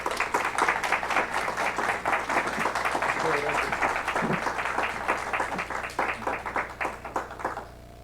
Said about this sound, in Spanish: Recibamos al doctor Salvador Elías Venegas Andraca con un fuerte aplauso, por favor.